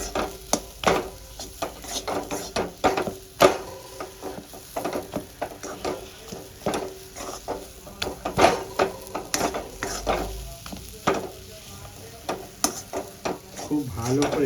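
Boiled potato and dal filling is stirred and scraped in a kadai, with steady clattering, patting strokes and a light sizzle running throughout at close range.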